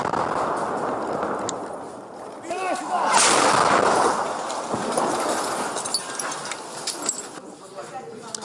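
Artillery fire and explosions echo across a front line in eastern Ukraine, a dense rumble of booms and crackling bursts that swell in the middle, with faint voices underneath.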